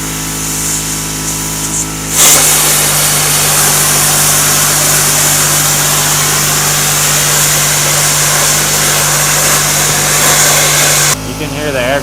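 An Arc Captain 50 amp plasma cutter fires up with its air compressor running, giving a loud, steady rushing hiss over a low mechanical hum for about nine seconds before it cuts off.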